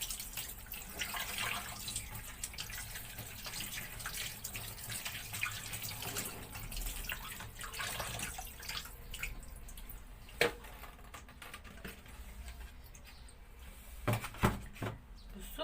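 Running tap water over raw chicken breast in a kitchen sink, a steady splashing flow with occasional knocks and clatter, and a voice speaks faintly at times.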